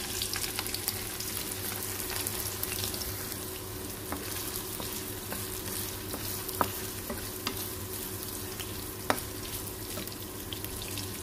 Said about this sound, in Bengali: সরষের তেল, তো প্রথমে সোয়াবিন গুলো ভেজে নেব।